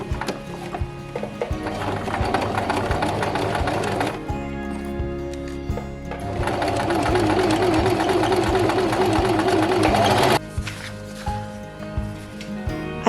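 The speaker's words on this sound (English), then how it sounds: "I sewed them with my sewing machine." A sewing machine stitching fabric runs steadily in rhythmic bursts, pausing briefly before starting again, with a whirring mechanical drone and no talking.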